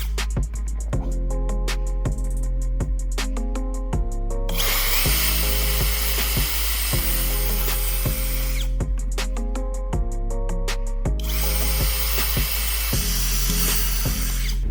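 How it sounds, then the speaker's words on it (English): Loud power drill whining steadily, with two bursts of grinding as it bites through a reflector body, set against a rhythmic background beat. "Use the drill to make holes at all 5 marked positions."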